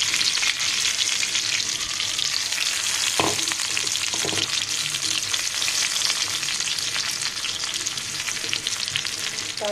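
Chopped garlic sizzles steadily in hot oil as a tempering (baghar) for a winter radish-greens and lentil dish, a dense continuous frying hiss with a few brief clinks of a spoon or pan partway through.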